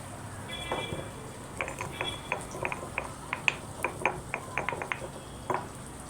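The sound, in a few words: crushing pepper and cumin by hand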